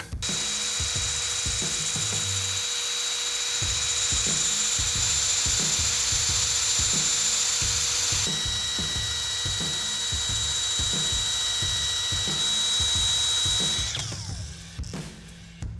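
Power drill countersinking holes in a billet aluminum pedal, a sustained high-pitched whine with a rapid rattling, chattering rhythm from the bit, loud and close, winding down near the end.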